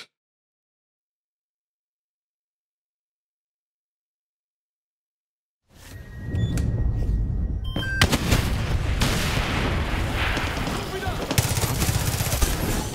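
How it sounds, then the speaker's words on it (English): Turret gunfire in the Far Cry 6 video game starts abruptly after several seconds of silence, then continues as a loud, dense barrage of overlapping shots and blasts that lasts to the end. "Oh, it's the turret! I was wondering what was shooting me."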